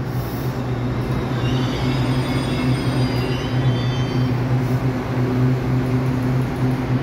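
EMU816+EMU815 local electric train departing Su'ao station on the Yilan line, a steady loud rumble of motors and wheels with a tonal hum and faint high squeal, continuous and close.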